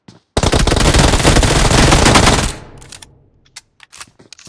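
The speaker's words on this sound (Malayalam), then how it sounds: "ഓനെ വെടിക്ക്." Loud, close automatic gunfire in a battle royale video game, a dense rapid burst lasting about two seconds, then fading into a few scattered sharp shots and clicks.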